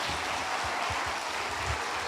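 A church congregation applauding, a soft, continuous wash of many hands clapping at an even level throughout, heard from some distance.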